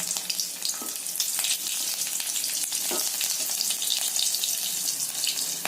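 Nigella seeds, cumin and green chilies temper in hot oil, giving a loud, steady, close sizzle with crackling spatters and a few stirring scrapes.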